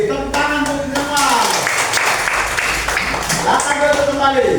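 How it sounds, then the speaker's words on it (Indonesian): A classroom full of students claps for everyone, a loud, dense round of hand claps mixed with chatter and voices. "tepuk tangan untuk semua"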